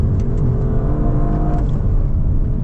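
A 2025 Audi RS4 Avant at full throttle, its engine holding a loud, steady, rising drone from inside the car as it grips and pulls hard, with no talk.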